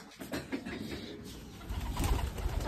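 Pigeons coo softly in a backyard loft, low repeated cooing heard at moderate distance over a steady ambient hum and light rustling.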